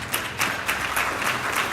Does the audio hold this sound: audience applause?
yes